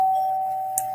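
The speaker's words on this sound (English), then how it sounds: "Perfect timing with the doorbell" A doorbell rings as one sustained, steady chime tone held for about a second, clear and close indoors, with a faint click near the end.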